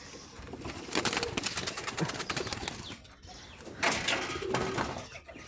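Pigeons in a coop that holds newly hatched chicks make soft, continuous cooing and fluttering sounds, with scattered wing flaps and light rustling throughout.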